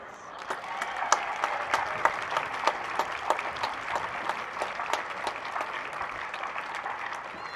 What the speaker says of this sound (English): Please give a round of applause to Cork Ireland.